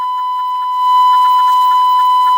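Fire department dispatch tones strike the box for a house fire call, a loud steady electronic tone with a faint pulsing beep pattern running throughout, continuous and alone until it cuts off at the end.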